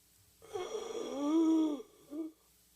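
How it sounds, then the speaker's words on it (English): A dying man's shallow, laboured breathing, dramatized: one long drawn rasping moan-like breath swelling and fading, then a brief second catch, close and alone. "His breathing is growing shallow."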